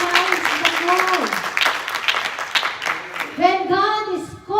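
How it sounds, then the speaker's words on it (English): A church congregation claps and calls out during a sermon, a scattered burst of hand claps mixed with voices, with singing or speaking rising near the end. "Can we give a clap of hands to our God?"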